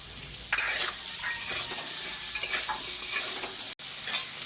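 Slit green chillies fry in hot oil in a pan with turmeric, a steady close sizzle broken by repeated scraping strokes of a spoon stirring them, no voices.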